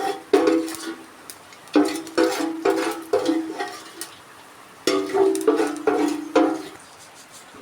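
Roasted grated coconut is scooped and stirred out of a hot pan of oil, with repeated bursts of scraping and sizzling separated by short pauses, close and clear.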